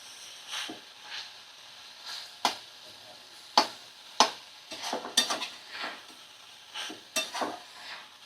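A drying dish is stirred in a pan over the stove: intermittent scrapes and metallic clinks of a spoon against the pan, roughly a dozen separated strokes over a faint low sizzle, close and clear with no talking.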